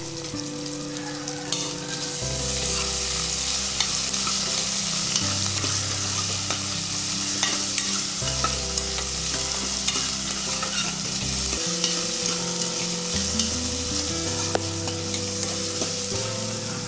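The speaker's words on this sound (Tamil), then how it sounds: "லைட்டாக இதை ஆயிலில் ஃப்ரை பண்ணிக்கலாம்." Green chillies and curry leaves frying in oil for potato poori masala, a continuous close sizzle with occasional stirring, heard under steady background music with no talk.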